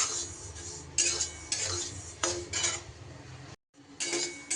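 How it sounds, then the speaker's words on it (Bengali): Dalia being stirred and roasted in a pan over a low flame: repeated close metallic scrapes and clinks of a spoon against the pan in uneven bursts, with a brief silent gap before the stirring resumes. "তিন থেকে চার মিনিট লো ফ্লেমে আমি ডালিয়াটা বেশ সুন্দর করে নাড়াচাড়া করে নিয়েছি"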